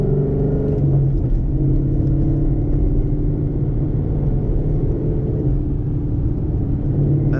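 A car engine runs steadily in stop-and-go traffic, a loud, continuous low rumble with gentle rises and falls in pitch as the driver shifts, with no voices over it.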